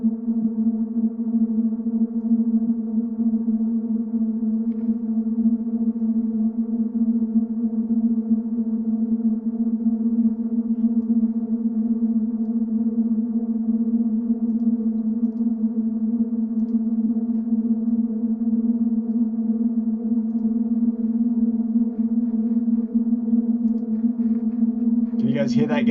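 A tense synthesizer drone in the Stranger Things style holds a steady low tone with stacked harmonics above it, sustained and unchanging for a long stretch, ending in a brief burst of noise.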